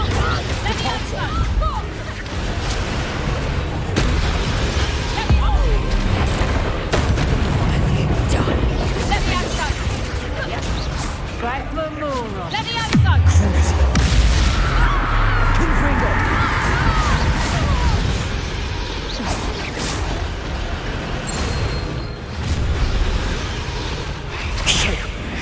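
Spell blasts and explosions in Hogwarts Legacy come as repeated loud whooshes, crashes and booms over a dense, continuous bed of game music and effects, with voices shouting spell names throughout.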